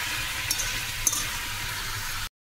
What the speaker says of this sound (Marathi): ग्रेव्ही कांदा, टमाटर, काजू, मिरची आणि ते फरसबी थोडंसं भाजून घेऊया.